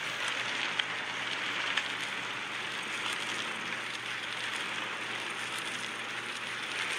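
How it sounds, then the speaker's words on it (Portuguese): Steady rain hissing down across the whole stretch, an even, dense patter with no voices, continuous and moderately loud. "Aqui chove muito"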